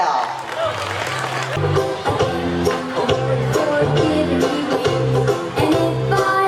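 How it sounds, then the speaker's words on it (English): An audience applauds the tiny tots at a school annual day, steady dense clapping over music and voices that carries on throughout at moderate loudness. "Huge round of applause."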